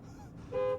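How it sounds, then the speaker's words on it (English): A 2026 Chevy Silverado RST 2.7T pickup sounds its horn in a single sharp, steady honk that swells in the second half after quiet road hum. "what does the horn sound like?"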